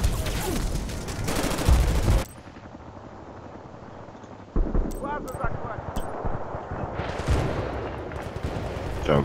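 Gunfire and sniper shots from the Vietnam expansion of Battlefield: Bad Company 2, loud bursts of rapid automatic fire and sharp cracks, fading briefly into a quieter stretch before more shots and talk return.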